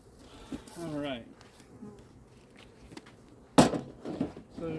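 Bees buzzing around a hive during a mid-October colony inspection, a low, faint hum close by, broken by a few knocks and handling bumps, with a person talking briefly over it.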